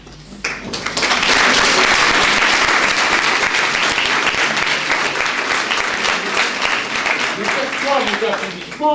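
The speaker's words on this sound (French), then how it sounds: "Des applaudissements pour Mémoire 2000" An audience applauds for the association Mémoire 2000, a dense, loud burst of many hands starting after a brief pause and sustaining evenly to the end, with a voice faintly audible late on.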